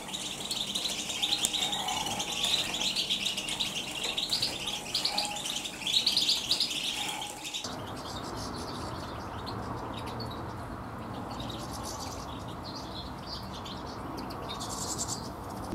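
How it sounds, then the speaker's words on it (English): A crowd of confiscated finches, including serin, goldfinch, greenfinch, linnet and chaffinch, twitters in a dense, continuous chorus of high chirps and trills, close and busy, then continues more faintly against a steady background hiss. "These birds are all finches belonging to five different species. We have Serin, Goldfinch, Greenfinch, Linnet and Chaffinch."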